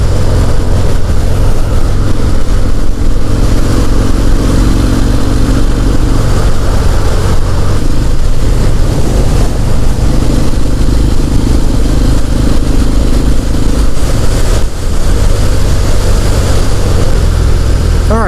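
A 2019 Harley-Davidson FXDR 114 cruising in sixth gear on the interstate: a loud, steady, deep engine drone blended with heavy wind rush, continuous and close throughout.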